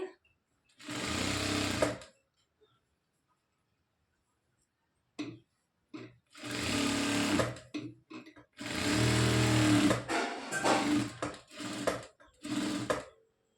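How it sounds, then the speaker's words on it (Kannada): A sewing machine stitching a blouse runs in loud, close bursts of rapid mechanical whirring, with a pause of near silence between the first burst and a longer run of stitching with brief stops. "ಅಲ್ಲೇ ನೋಡಿಕೊಂಡು ಸ್ಟಿಚಿಂಗ್ ಅನ್ನೋದನ್ನ ಮಾಡಿ"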